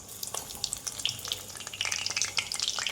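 Paneer chops frying in oil after being flipped, a dense crackling sizzle of bright popping bursts throughout, close and lively, with no voices.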